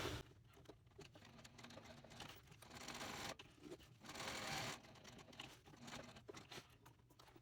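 A sewing machine stitches a small canvas tote bag up, across and back down, a faint close patter of needle strokes in uneven runs with short pauses.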